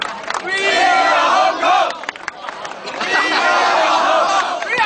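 Football fans in Hong Kong celebrate outside the stadium after their team beats Japan for gold in the 2009 East Asian Games final. A large crowd shouts and chants in loud, continuous waves, with voices overlapping nearby.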